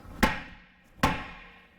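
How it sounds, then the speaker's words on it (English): A hammer strikes a solid steel outer tie rod end twice, each hit a sharp, ringing metallic clang about a second apart, close and fairly loud. "So what I do is I take my hammer end and we're just gonna hit it a couple times."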